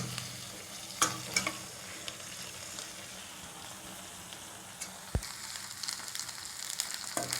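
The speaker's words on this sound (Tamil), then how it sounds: "நல்லா ஒரு 2 நிமிஷம் விடாமல் கிளறிக்கிட்டே இருங்க." Cooked rice being stirred into a frying lemon mixture in a pan, with a soft continuous sizzle and scattered scraping and spatula knocks close by, one sharp thud near the end.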